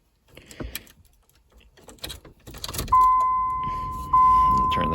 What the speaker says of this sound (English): So at this point, I'm gonna turn the ignition to on.